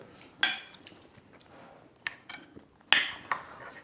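Cutlery and dishes during a home meal of meat and salted egg: three sharp clinks of utensils against plates, spaced apart, with faint background sound between them and no talk.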